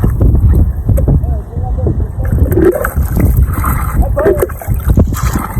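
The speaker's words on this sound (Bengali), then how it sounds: "এত পরিমাণ বাতাস বইতেছে" Strong wind sweeps across open water beside a small dugout boat, buffeting the microphone with a low rumble and occasional splashes while someone talks throughout.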